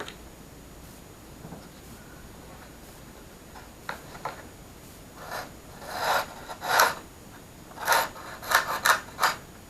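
Blade scraping blue paint from the carbon aileron hinge of an Azurreich DLG glider wing: faint scratching at first, building into a series of short, close, rasping strokes.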